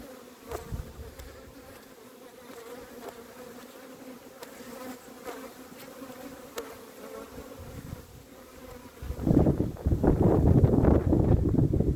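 Honey bees buzz close by around a nuc hive in a steady drone, with individual insects zipping past, and a gusty rumble of wind near the end.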